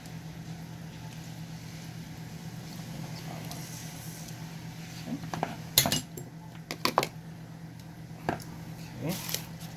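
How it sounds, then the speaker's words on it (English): Cooked noodles drop into a ramen bowl with a few sharp clinks and knocks of utensils against the bowl, scattered over a low steady background hum. "Add in our noodles that we just cooked."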